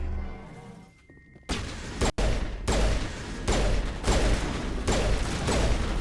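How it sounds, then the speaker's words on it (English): Pistol gunfire in the Mass Effect video game on Insanity difficulty, a rapid string of sharp, loud shots that keeps going at a steady pace after a short quiet lead-in. "One thing I like to do is to just start shooting."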